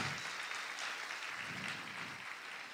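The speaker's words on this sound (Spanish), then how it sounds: "Aplaude fuerte a tu Dios." Many hands in a church congregation clap steadily through a worship service, soft and somewhat distant, a continuous even patter without speech.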